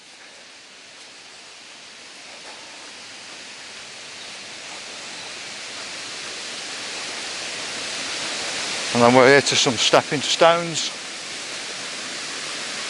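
Steady rushing water from the top of a waterfall by stepping stones on a countryside walk, a broad constant roar that grows slightly louder, with someone briefly talking over it.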